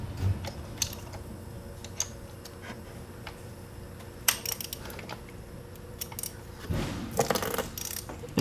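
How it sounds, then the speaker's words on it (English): A wrench snugs a spark plug into a Ford F150 EcoBoost engine, giving sparse, crisp ratcheting clicks and metallic ticks close by, with a denser flurry of clicks near the end and no talking. "we're going to throw our wrench back on"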